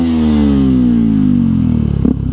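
A 125cc four-stroke motorcycle engine revved hard at full throttle, a loud close buzzing roar that climbs steadily in pitch and then breaks off with a clunk near the end.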